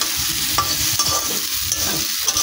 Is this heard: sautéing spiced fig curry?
yes